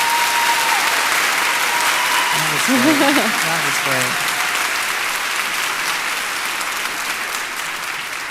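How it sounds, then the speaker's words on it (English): A live audience at a literary conversation event applauds steadily across the whole stretch. The applause stays dense and even, thinning slightly toward the end, while a voice speaks briefly in the middle. "Can we get a round of applause?"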